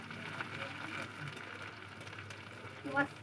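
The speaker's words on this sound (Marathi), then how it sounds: "तेल मस्त तापू द्यायचं नंतर कांदा टाकायचा" Onion frying in hot oil over a wood-fired stove, a steady soft sizzle running throughout with a brief louder burst near the end, under quiet background sound.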